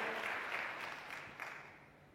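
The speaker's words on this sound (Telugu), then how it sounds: "దేవుని నమ్మిన వారు గట్టిగా చప్పట్లు కొట్టి ప్రభువును అనుమయపరచండి" Congregation at a Telugu Christian sermon clapping in praise, a short burst of applause that starts fairly full and fades away over about two seconds, heard from a distance and rather faint.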